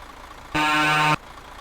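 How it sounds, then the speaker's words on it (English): Roof-mounted truck horns give a single loud, steady blast of just over half a second, rich and brassy, sounding alone against quiet background. "Those horns on top are loud"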